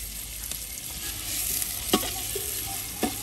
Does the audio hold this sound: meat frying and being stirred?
yes